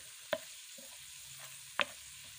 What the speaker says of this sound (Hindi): ये मैं आलमी लहसुन अदरक का पेस्ट और सब्ज़ मिर्ची का ये फ्राई कर रही हूँ